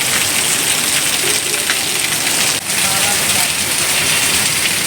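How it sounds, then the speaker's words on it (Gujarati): A heavy downpour roars in Ahmedabad, a loud, dense and unbroken rush with a brief dip midway, and no talk over it. "ધોધમાર વરસાદ પડી રહ્યો છે."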